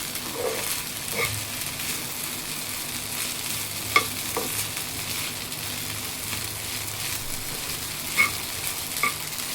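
Frying in a small nonstick pan with steady stirring: a soft, continuous sizzle broken by a few sharp clinks of the utensil against the pan, heard close up and with no talk.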